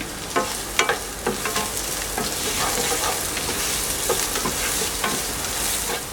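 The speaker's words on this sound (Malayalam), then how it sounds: "ഇതിലേക്ക് ചോപ്പ് ചെയ്ത് വെച്ചിരിക്കുന്ന ഒരു ചെറിയ സവാളയും നാല് പച്ചമുളക് വട്ടത്തിൽ കട്ട് ചെയ്തതും കൂടെ ചേർത്ത് കൊടുക്കാം ഇവ ചേർത്ത് നല്ലപോലെ വഴറ്റി കൊടുക്കണം" Chopped onion and round-sliced green chillies sautéing in a pan for a fenugreek-leaf and cowpea stir fry, a steady close sizzle broken by scattered scraping stirs.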